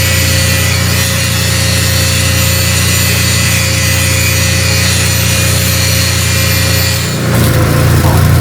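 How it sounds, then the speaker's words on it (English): An angle grinder runs steadily at close range, grinding a small spot off metal on a ranch build, a loud continuous whine that shifts pitch near the end as the disc bites harder. "Plug it in and grind off that little spot right there."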